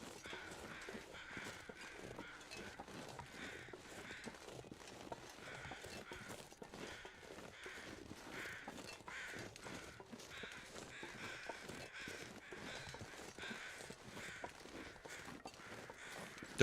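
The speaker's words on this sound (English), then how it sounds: "crows are making a ruckus" Crows cawing in The Long Dark, a survival video game, heard as a steady stream of harsh calls mixed with in-game ambience and footstep-like crunching throughout.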